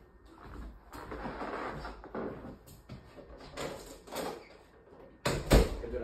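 A door closing indoors during a dog's bed-training session, with a sharp thud near the end following soft shuffling and handling sounds, close and moderately loud.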